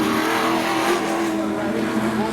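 Pro stock race cars at Seekonk Speedway roar loudly and continuously, engines droning together as the field rolls, with a faint announcer voice underneath.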